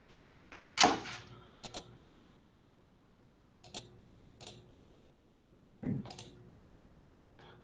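A few sharp mouse clicks land at scattered intervals, some in quick pairs, against a quiet room with faint background hum and no talking.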